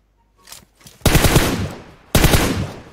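Loud machine-gun bursts in PUBG Mobile: a short faint spatter, then two heavy sustained bursts of rapid fire, each about a second long, with no talking.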